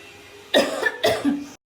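Two close coughing fits from an adult with a dust allergy and a winter cold, each a loud burst of hacking coughs, heard alone and close to the listener.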